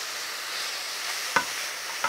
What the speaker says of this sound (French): Et je touille.